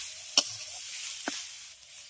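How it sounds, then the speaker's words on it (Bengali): Raw carrot seeds fry in a covered pan with a soft, quiet sizzle, broken by two sharp stirring clicks against the pan. "ভালো করে ঢাকা দিয়ে গাজর বীজটাকে ভেজে নিয়েছি"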